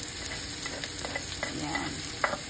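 String beans and bacon cooking in oil in a pan, a constant close sizzle with light scraping and stirring clicks from a utensil.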